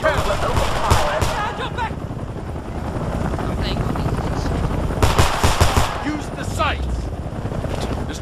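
Automatic and rifle gunfire bursts out in a Homefront firefight, loud sustained shots with heavy rumble and a helicopter-like drone, with voices shouting over the battle.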